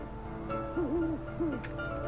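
An owl man character hoots in the video game Never Alone: two or three short, wavering hoots at moderate volume over a steady low game ambience, with no talking.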